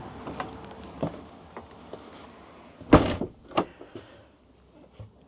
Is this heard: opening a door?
yes